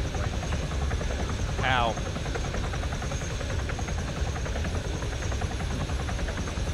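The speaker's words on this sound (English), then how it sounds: "Collapse back in the chopper, load up the Huron." A Huron transport helicopter in a video game, its rotor thudding in a loud steady rhythm throughout, with a brief voice partway in.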